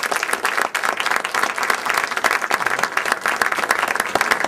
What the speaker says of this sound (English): Could we please have a really nice round of applause for your candidates?